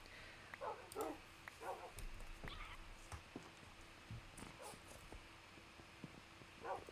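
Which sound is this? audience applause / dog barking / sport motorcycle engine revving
dog barking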